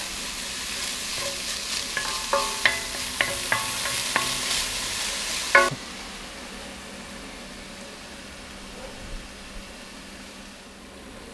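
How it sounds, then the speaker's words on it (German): Bacon rendering in a Dutch oven, giving a steady frying hiss with a series of sharp spatula clicks and scrapes, then a softer, quieter sizzle after a louder knock. "nehmen wir hier unseren Speck. Auch den lassen wir erstmal schön aus."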